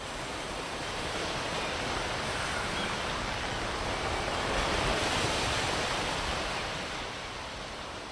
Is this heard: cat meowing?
no